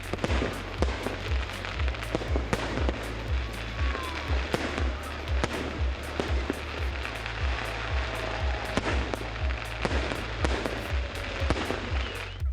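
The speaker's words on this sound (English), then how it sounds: "Colombo skies were lit up with fireworks set from the Lotus Tower" Fireworks set off from the Lotus Tower in Colombo pop and bang in rapid, irregular bursts, crackling loudly and continuously, with a large crowd faintly audible beneath.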